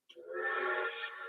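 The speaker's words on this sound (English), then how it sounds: "that's the train quit whistling." A train whistle sounds in the distance outdoors, one sustained, steady blow lasting over a second, fairly faint and heard alone without talk.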